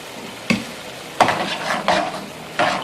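Fresh cream being stirred into Indian-style butter chicken in a hot pan: four distinct scraping stirs at a steady pace, close and fairly loud, over a soft, continuous sizzle with no talking.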